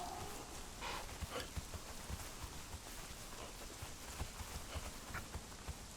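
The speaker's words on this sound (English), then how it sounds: "Horses spawn over here if you're looking for horses." Horse hooves clip-clop steadily in the Conan Exiles video game, a soft continuous patter of footfalls at moderate distance over a quiet outdoor ambience.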